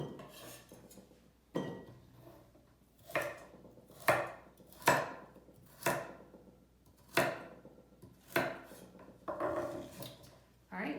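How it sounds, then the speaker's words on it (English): Carrots are sliced into thick pieces on a cutting board, with about a dozen sharp knife chops at irregular intervals, each ringing briefly, under quiet background talk. "I like more thick pieces of carrot because I don't want them to get too mushy."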